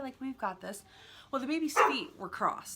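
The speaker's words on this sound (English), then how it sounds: "Sorry, that's my dog." A household dog barks indoors. A few sharp barks break in over a person talking steadily nearby.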